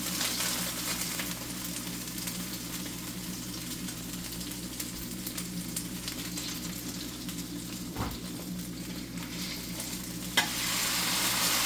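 Big Mac taco filling cooks in a pan with a steady, even sizzle and frying hiss that lasts throughout, broken by a couple of brief utensil clicks near the end.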